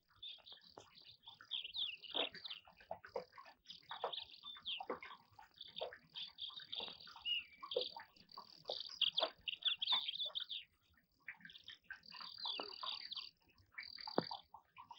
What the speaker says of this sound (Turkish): Cıvıl cıvıl kuşlar.